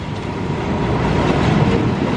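A CC 206 locomotive hauling a power car and passenger coaches passes through Bandung station, a loud, close, continuous rolling roar of wheels on rail with faint clatter, no voices.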